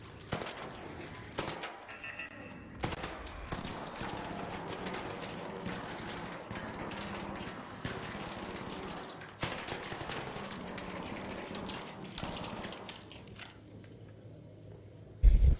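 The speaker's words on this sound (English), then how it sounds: "the funny turret's right above me" A machine gun turret in a Lego video game fires long, rapid bursts of gunfire, with sharp cracks repeating throughout at moderate volume.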